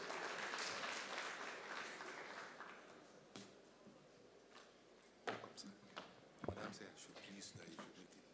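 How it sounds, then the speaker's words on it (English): Applause from the audience at an investment summit gathering, a dense burst of clapping that fades away after a few seconds, leaving scattered isolated claps and quiet talk in a large hall. "A round of applause, please."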